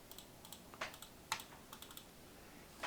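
Soft computer keyboard typing close to the microphone, a few scattered light keystrokes and short clusters of taps over a quiet hiss.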